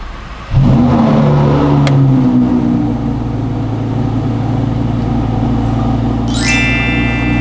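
Lamborghini engine starting up with a sharp crank, then a loud, close rev that settles into a deep, steady rumble, with a brief high whine near the end.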